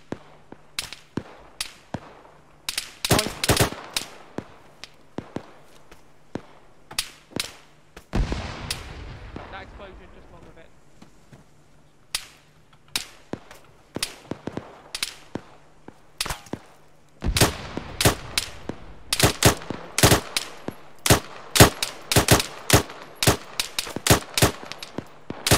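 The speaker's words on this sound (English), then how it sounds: "Someone's getting pretty good with the grenades there, over." Grenade explosions and gunfire in a military video game, with sharp shots in scattered bursts and clusters and a few heavier booming blasts, some rapid volleys near the end, and a faint steady hum underneath.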